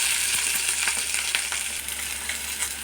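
Cumin seeds frying in hot oil in a pan, a steady bright sizzle with scattered crackles and light scraping of stirring, close and continuous with no talking.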